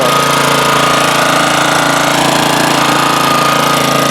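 A 1987 Honda HRA214 two-wheel-drive lawnmower engine runs at full throttle while mowing, a loud, steady, rapid putter that stays constant throughout with no talk.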